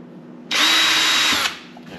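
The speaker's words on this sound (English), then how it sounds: "I'm going to start with a smaller drill bit just as a pre-hole" Small drill bit boring a pilot hole in a hockey stick: one loud, steady whir of a power drill lasting about a second, alone at close range.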